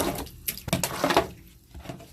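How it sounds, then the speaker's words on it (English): Water splashing and dripping as it is bailed out of a Honda's floor pan after the interior is washed and sound deadening is removed, a few close scoops and trickles in quick succession. "I'm gonna bail this out."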